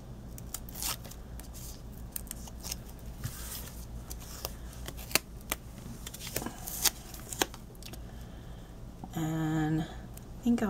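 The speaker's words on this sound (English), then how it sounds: "I already have foam tape on the back of this. I'm just going to peel it off." Backing peeled off foam tape on a Halloween paper craft card, heard as close crackly ripping and rustling of paper and plastic film in short bursts, with a brief tonal beep near the end.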